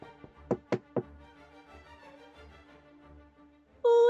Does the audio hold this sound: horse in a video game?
no